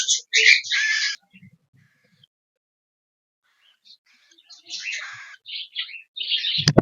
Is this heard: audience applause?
no